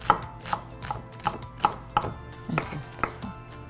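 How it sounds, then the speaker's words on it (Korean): A knife chops onion on a cutting board in about eight crisp, evenly spaced strikes, close and clear with no talking. "양파를 이렇게. 이러면 금방 다져지죠."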